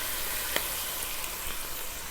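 Garlic and ginger frying in hot oil with onions for a steak curry, a steady bright sizzle with a small pop near the start, close and constant throughout, with no talking.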